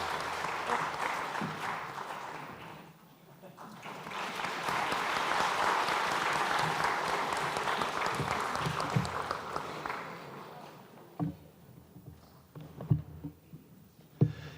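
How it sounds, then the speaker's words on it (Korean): Church congregation applauding during a Sunday worship service, a broad sustained wash of clapping that swells for several seconds and then thins into a few scattered claps and sounds near the end. "여러분 마음껏 축복하며 박수합시다."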